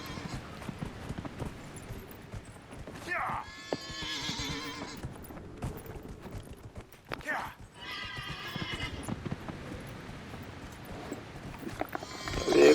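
In Dragon Age: Inquisition, a horse whinnies twice, loud and close, with steady clip-clop of hooves between and a brief voice at the end.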